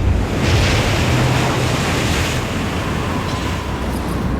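A storm at sea off Newcastle brings constant heavy surf and gusting wind, a loud, unbroken roar of crashing waves and buffeting air.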